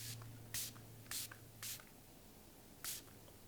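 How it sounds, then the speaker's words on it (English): Four short, crisp hissing bursts of an Anua facial mist spray, spaced irregularly and close by, with quiet gaps between them. "I love this Anua spray, but I also love the Delba spray"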